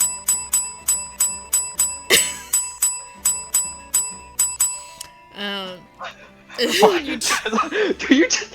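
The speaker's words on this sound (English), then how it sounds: "when you ring the bell on the counter" A service bell on a counter in a fantasy tabletop game session is struck about a dozen times in quick, even succession, each ding bright and ringing, before people begin talking.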